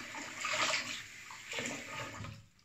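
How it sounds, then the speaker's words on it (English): Warm tap water runs and splashes as an electric razor is rinsed, swelling in two soft surges before fading out, with no speech. "Warm water rinse, and then I'll move on to cold afterwards."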